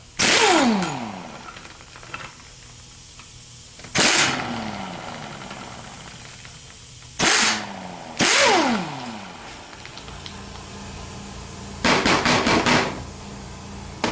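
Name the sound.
short power tool bursts loosening alternator nut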